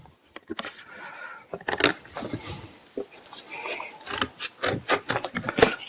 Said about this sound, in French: Donc je découpe mes petits carrés de carton.